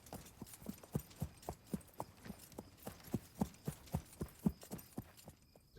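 Horse hooves clip-clop at a steady walking pace in Wild West Online, about a dozen evenly spaced, fairly close thuds that fade out at the end.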